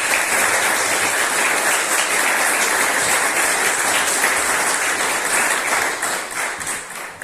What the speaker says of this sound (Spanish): demos por favor un acogedor aplauso para Zoilo Perrino Díez